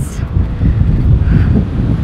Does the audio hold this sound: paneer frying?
no